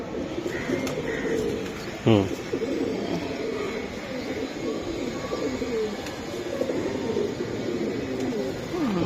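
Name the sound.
pigeons cooing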